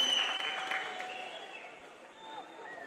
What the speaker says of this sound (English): And the crowd acknowledgement says it all.